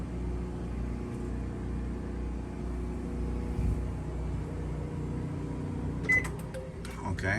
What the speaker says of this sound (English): we can try the microwave